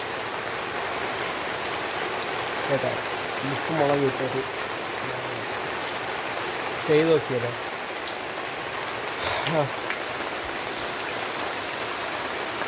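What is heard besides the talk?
rain falling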